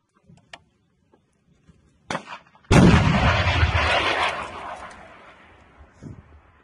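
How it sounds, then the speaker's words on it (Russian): A sharp crack followed by a loud, roaring blast that trails off over several seconds as an anti-tank missile launches nearby, with small clicks and thumps around it. "Разрешение на запуск! Внимание, выстрел!"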